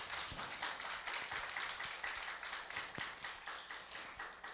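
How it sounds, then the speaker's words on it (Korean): Applause from a lecture audience at a humanities forum honoring a political science professor, fairly faint and somewhat sparse, with individual claps standing out in a loose rhythm. "큰 뜨거운 박수"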